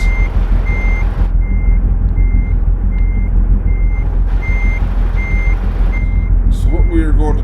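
A big rig backing up in American Truck Simulator, its reversing alarm beeping steadily at an even pace over a loud idling diesel rumble, with an air hiss near the end.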